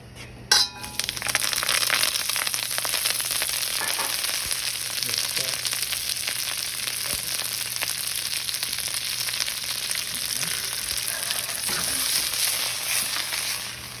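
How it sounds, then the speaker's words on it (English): Cabbage sautés in oil in a pan for beef lo mein, with a steady, close sizzle throughout and a few light clinks of a utensil against the pan. "First, we're going to start by sauteing all the vegetables individually. We'll start with our cabbage."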